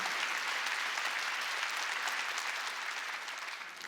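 A church congregation claps together during a Sunday worship service, a dense, steady wash of many hands that carries through evenly and only begins to thin toward the end.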